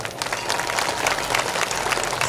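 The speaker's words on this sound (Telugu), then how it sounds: "కోరుకునే వాళ్ళు చప్పట్లు కొట్టండి." An audience claps in sustained, dense applause during a discourse at a Sita Rama wedding ceremony in a Kodanda Rama temple in Devarakonda, a crowd heard at moderate distance for a couple of seconds.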